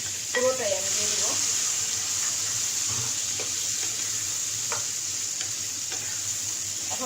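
Onions with their green leaves frying in a pan with green chillies for an eggplant dopeyaja, giving a steady close sizzle with occasional scrapes of stirring throughout, no voices.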